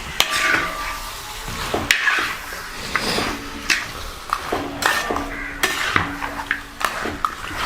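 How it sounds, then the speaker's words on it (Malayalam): A spoon stirs mutton head thoran with salt in a pan, giving repeated scraping clinks of metal against the pan over a soft frying sizzle, close and fairly loud. "ഉപ്പ് നമ്മൾ ചേർത്ത് ഇളക്കി കൊടുക്കുക."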